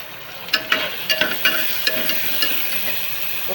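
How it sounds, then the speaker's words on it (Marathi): Tomato going into onion already browning in a pan, with a steady sizzle and a series of sharp clinks and scrapes from stirring, close and clear with no talking. "आता टोमॅटो टाकूया."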